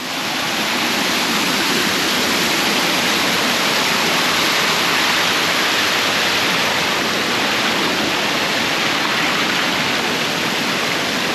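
Tropical island waterfall and river in Siquijor, Philippines, roaring as a dense, steady rush of falling water, loud and close with no voices.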